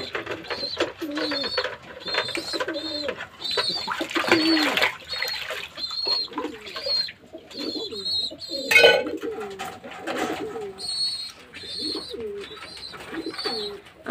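Pet pigeons coo repeatedly inside their loft, the soft throaty calls overlapping close by, with light splashing from water being poured into the compartments.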